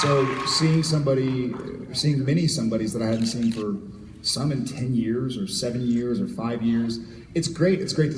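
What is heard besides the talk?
No distinct noise like a dog, phone or traffic.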